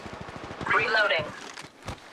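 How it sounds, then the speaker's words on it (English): Rapid gunfire in Apex Legends Mobile, a quick stream of evenly spaced shots running through the moment, with a character's voice speaking over the shooting. "Shots fired at me."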